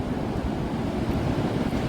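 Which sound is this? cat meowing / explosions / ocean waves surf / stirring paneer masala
ocean waves surf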